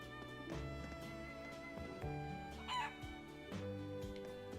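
A chicken clucks and crows in the video game Trails of Cold Steel IV, a brief fowl call in the middle of looping background music.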